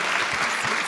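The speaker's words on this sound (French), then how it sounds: "on peut les applaudir d'accepter cette tâche" Applause from the audience at an extraordinary general assembly, a brief, dense patter of many hands at moderate distance with no voices on top.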